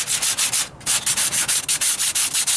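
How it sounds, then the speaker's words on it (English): Rapid back-and-forth strokes of 80 grit sandpaper on a wheel arch patch of a 1998 Ford Ranger, driver's side, loud and close, a rhythmic rasping with one brief pause. "Sanding."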